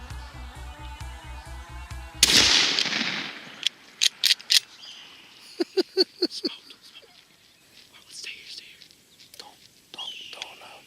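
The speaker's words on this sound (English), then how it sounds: "Anthony shot that Tom at about 20 yards." A shotgun blast aimed at a wild turkey tom about 20 yards off in the woods cracks once loudly, following low whispered talk, then quieter clicks, rustling and a few sharp knocks as the hunters stay put.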